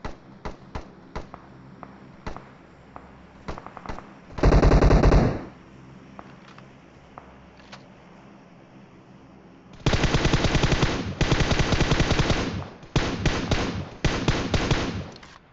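Bursts of automatic gunfire from the mobile battle-royale shooter PUBG Mobile: scattered single shots, then a long loud burst and several sustained rapid-fire volleys later, close and dominant with no talk.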